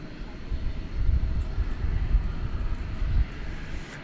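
Jet engine roar of an airliner at Dallas Fort Worth Airport, a steady low rumble that swells and holds at a moderate level, with no talk over it.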